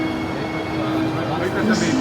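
A train bound for Jerusalem rumbles steadily nearby at a platform, with a dense continuous roar, faint squealing tones and voices in the background.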